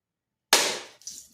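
A coconut split cleanly with a single strike makes one sharp crack that rings briefly, followed by a lighter clatter as the halves fall, close and alone after silence.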